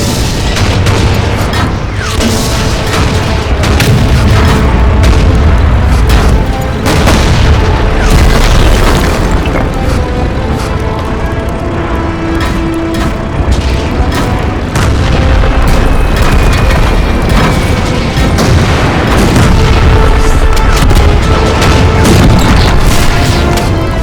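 Tank cannon fire in a tank cartoon, a dense, loud barrage of booms and blasts rolling continuously with overlapping explosions and rumbling impacts, no pause throughout.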